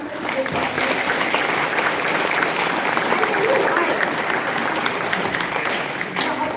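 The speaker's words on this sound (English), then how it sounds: "Just give yourself a big clap." A festival auditorium audience applauds together, a continuous, evenly loud wash of many hands clapping that holds for over six seconds with faint crowd murmur underneath.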